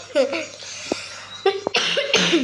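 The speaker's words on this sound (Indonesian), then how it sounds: "Ya, batuk aku" Someone coughs a few times in short bursts, mixed with light voices and a faint background hum.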